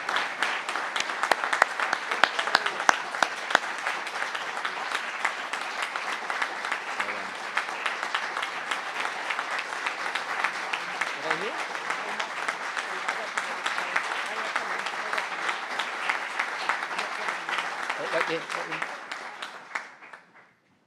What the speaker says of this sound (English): Another round of applause for Connor and his mum and dad.